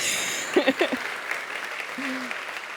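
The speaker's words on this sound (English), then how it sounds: "Applause!" Applause at a university awards ceremony for the opening of the academic year, a steady wash of clapping across the hall with a few louder bursts early on and a voice briefly heard through it.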